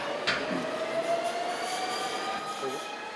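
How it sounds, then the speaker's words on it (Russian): An engine running up into a steady, droning whine with a low rumble underneath, holding at a constant level throughout. "Запустился мотор, да?"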